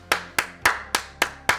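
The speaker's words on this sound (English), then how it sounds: "Let's give them a round of applause." Six evenly spaced sharp claps, loud and close, spread across a short moment with no talking.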